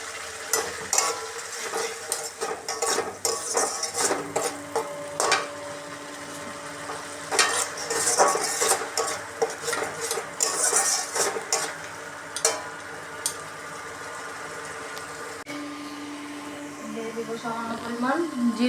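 Air fish, tomato pieces, salt and ground cumin and spice paste are sautéed together in a pan. A steady sizzle runs under repeated scraping and clattering stirs of a utensil against the pan.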